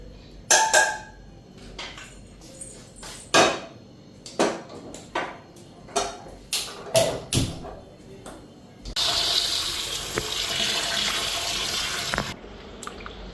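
Potatoes are washed at a kitchen sink, with clattering knocks and splashes of dishes and produce followed by a steady rush of tap water for several seconds, close by.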